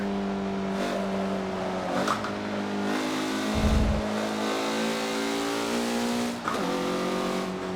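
Sustained engine drone from a 2013 Mazda MX-5 Cup race car lapping the Nordschleife in Forza Motorsport 7, with steady revs, a brief gear shift near the middle and another throttle change late, loud and continuous with no talk.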